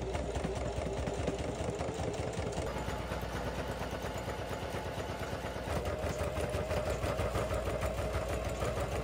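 A home sewing machine running a continuous straight stitch to sew bias tape around the edge of a fabric rice bag, a steady rapid mechanical whirring hum at close range with no pauses or voices.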